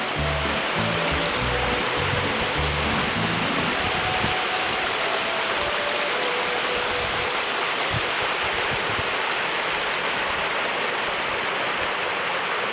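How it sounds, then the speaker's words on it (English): Rushing river rapids below a beaver dam on Crown Land, a steady broadband roar of churning water close by, continuous and unbroken throughout, with no voices. "down a little bit from the beaver dam, we find we've got rapids"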